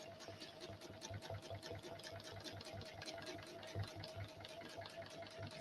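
A sewing machine stitches a circle on a quilt, a fast, even mechanical rattle of needle strokes running steadily throughout, close but fairly quiet.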